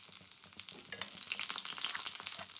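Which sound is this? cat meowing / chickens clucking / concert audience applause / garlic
garlic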